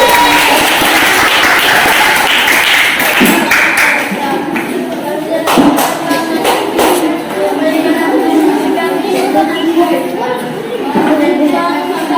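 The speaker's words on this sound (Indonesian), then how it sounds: "Ayo, silakan tepuk tangan dulu." A classroom of students applauds a group after its presentation, with dense sustained clapping throughout and a few louder claps and voices mixed in.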